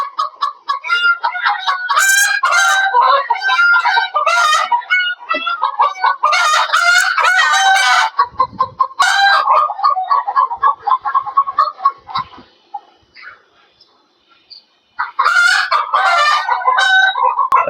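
Chickens on a rooftop poultry farm thirteen storeys up, kept in a netted shed, make loud, busy clucking and squawking calls in repeated bursts, with a brief quieter lull near the end before the flock noise resumes.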